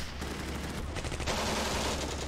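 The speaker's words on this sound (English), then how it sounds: "There is a machine gun." Machine gun fire in the WWII tank game Steel Fury, Operation Barbarossa on the Bug River: a continuous dense stream of rapid automatic shots under steady engine and battle noise, with no voices.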